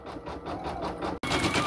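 A flatbed embroidery machine stitches a design onto a potholder, its needle running in a steady, fast mechanical rhythm up close, with a brief pause before the whirring resumes.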